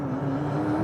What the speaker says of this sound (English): all that lovely boost being dumped